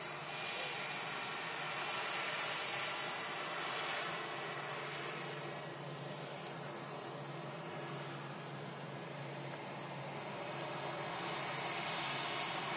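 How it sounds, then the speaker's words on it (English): A Ryanair airliner arriving at Manchester Airport gives a steady, broad jet roar that swells gently and holds for over ten seconds, heard from a distance with no talk. "Next arrival is going to be a Ryanair from Naples."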